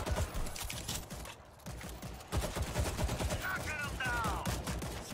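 Short bursts of automatic gunfire crackle nonstop in the zombie shooter World War Z, dense and close, with a brief lull before the shooting resumes; a faint voice sits underneath.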